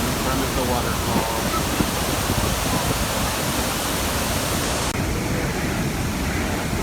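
Iguaçu waterfalls roaring as a steady, loud broadband rush of falling water close by, unbroken for the whole stretch with no pauses.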